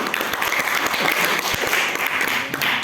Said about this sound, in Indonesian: Tepuk tangan untuk regu C.